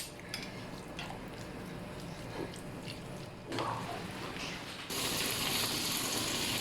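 Chicken dropped into hot oil bursts into a loud, steady sizzle that swells sharply partway through and holds as a dense hiss.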